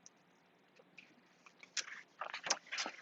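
A dog crunches and munches on its lunch, with faint chewing that grows into louder, irregular bites and crunches.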